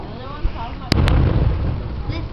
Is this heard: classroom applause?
no